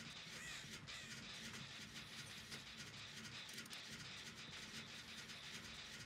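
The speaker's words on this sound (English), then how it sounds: "This crow's gonna keep doing this." Crows caw in the video game Dead by Daylight, their faint calls mixed into a dense, steady ambient rumble for several seconds, with no speech.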